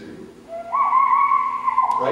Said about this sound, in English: Whistling. That was a cool thing to do in the hallways or whatever, right?